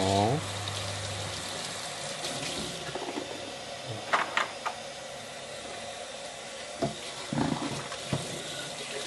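Water sprays and splashes around a Diller Tritan kids' water flask being rinsed at a sink, a steady tap-like wash with a few louder bursts and clunks close by.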